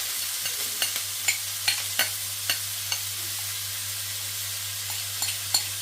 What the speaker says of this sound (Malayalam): ചൂടായ എണ്ണയിലേക്ക് നമ്മൾ നമ്മുടെ സവോള ഇടുവാണ്